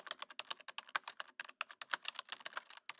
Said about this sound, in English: It's keyboard typing sound.